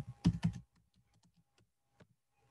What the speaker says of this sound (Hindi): यहां मैं नेक्स्ट हेडिंग लिखता हूं